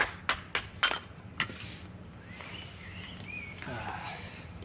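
A knife is batoned with a hammer to split kindling: several sharp, loud strikes come in quick succession at first, then one more, followed by quieter scraping and handling noises.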